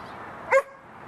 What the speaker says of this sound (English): That's a frustration bark of not getting treats because the dog left.